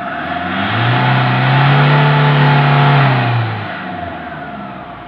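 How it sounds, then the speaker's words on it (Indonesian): Toyota Innova diesel with a 2KD-FTV engine after a 4-in-1 tune-up, revved once: a close, loud diesel drone rising from idle, holding for a couple of seconds, then dropping back toward idle. "Mainkan terus gasnya hingga dirasa RPM idle-nya sudah tidak berebut lagi"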